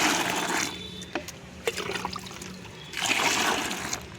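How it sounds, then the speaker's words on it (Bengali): Diluted water, mixed with a little oil-cake fertiliser, poured onto a vegetable plant in a home garden during the rainy season, heard as close splashing and trickling in two bursts with a quieter gap between them. "পাতলা করে জল নেব অল্প করে নিয়ে এই গাছটায় দিয়ে দেবো"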